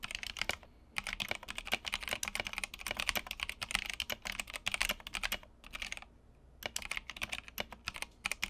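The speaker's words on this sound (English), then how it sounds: "I went from this sound" A custom TOFU 65 mechanical keyboard with unlubricated switches being typed on, a steady run of loud, close clacky keystrokes with a couple of short pauses, no talking.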